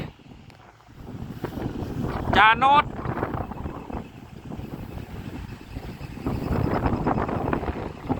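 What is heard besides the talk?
strong wind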